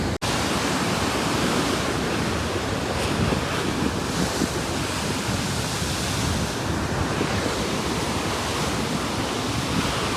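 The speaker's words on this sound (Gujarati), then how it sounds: "દરિયો છે ને અત્યારે ગાંડો તૂર થઈ ગયેલો છે" Rough sea waves crash and roar without pause, a dense, loud wash of surf mixed with gusting wind buffeting the microphone.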